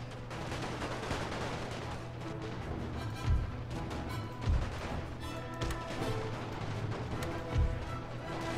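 Units in The Great War mod exchange gunfire, with scattered rifle and artillery-like thumps over a dense battle din, several distinct heavier booms spaced a second or two apart, no talking.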